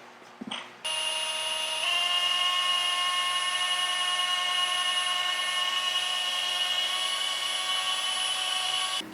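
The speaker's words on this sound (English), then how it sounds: "I'm going to grab the polisher, fix my screw up, and then keep going" A polisher with a wool pad removing hard ceramic coating from the paint of a TBM 910 airplane, starting with a click and then spinning up into a loud, steady high-pitched whine that runs continuously close to the listener.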